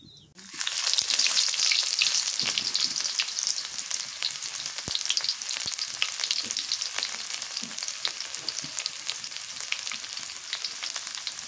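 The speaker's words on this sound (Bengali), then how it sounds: "তেল দিয়ে দেই, জিরা দিয়ে তেল আনি দিলে খুবই মজা লাগে।" Cumin seeds dropped into hot oil burst into a loud, close, crackling sizzle that starts abruptly and then holds steady, with scattered pops and no voices.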